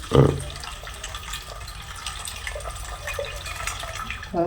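Water is drained from washed pearl millet in a continuous close trickle and splash, with a louder gush at the start. A voice speaks briefly.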